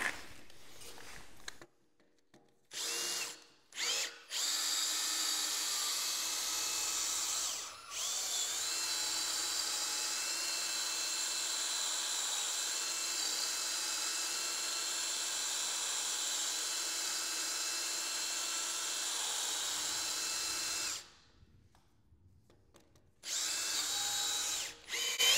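A power drill with a worn-out chuck whines steadily in one long continuous run after a few short bursts, then stops and briefly starts again, close and fairly loud.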